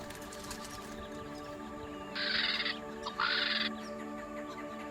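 A crested caracara gives two harsh, rasping calls in quick succession, each about half a second long, standing out clearly over a steady droning background on the savannah.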